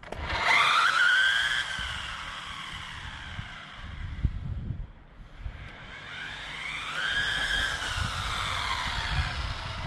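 A brushless 1/16 Pinecone SG 1606 Pro RC car makes a speed pass, its high motor whine rising as it approaches, fading away mid-clip, then climbing again on the return run, with faint outdoor rumble.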